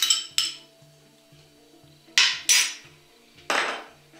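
Corn is stirred in a bowl for a tropical salad, giving bright metallic clinks and scrapes of utensils against the bowl, a few sharp hits spaced irregularly with softer tapping between, and no speech.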